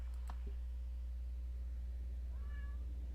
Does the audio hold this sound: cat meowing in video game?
yes